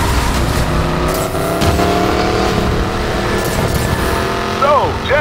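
A car engine revs and roars steadily in Need for Speed Payback during a highway heist chase, a loud continuous growl with shifting tones and a brief tire squeal near the end, under game dialogue.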